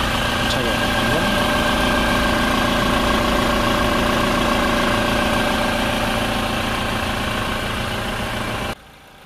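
A 2016 Toyota Hilux with a 2.8-liter inline-four 16-valve turbocharged diesel idles steadily nearby, a constant low rumble with a mechanical hum that holds even throughout before cutting off abruptly near the end.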